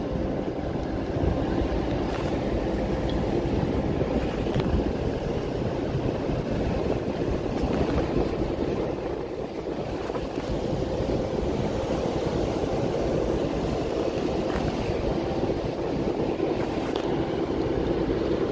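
Large vessel MV Tetap Jaya 1 berthing alongside a dock with a tug assisting, a steady low engine rumble mixed with wind and water wash, continuous and fairly loud throughout with no talking.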